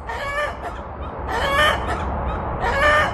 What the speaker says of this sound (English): A chicken lays an egg and they just go crazy around here.